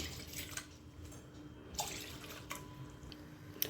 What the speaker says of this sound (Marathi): टोपात पाणी घेऊया दोन वाटी